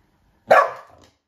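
A dog lets out a single sharp, loud bark close by, which trails off quickly into silence.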